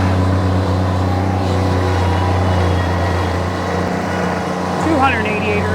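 A Bobcat MT100 mini skid steer loader on non-marking tracks back-drags with its bucket over asphalt, giving a steady low engine drone and continuous hum throughout, while someone talks over it.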